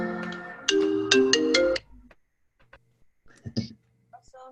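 A phone ringtone goes off during an online statistics lesson: about two seconds of loud, bright stacked musical tones, then faint scattered clicks and soft murmuring.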